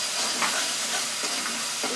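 Onions for chole frying in hot oil until light brown, giving a steady close sizzle and hiss throughout with faint stirring.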